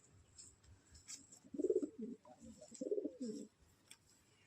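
Two distinct close pigeon coos in a pigeon loft, each a rolling, throaty burst of about half a second to a second, separated by a short pause over quiet background.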